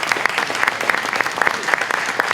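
Steady round of applause from a crowd at a manufacturing day press event attended by school corporations, dense hand claps filling the short stretch without pause.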